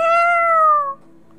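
A puppet voice imitates a cat's meow in a Christmas children's puppet show, a single clear, close drawn-out meow that fades away, followed by quiet.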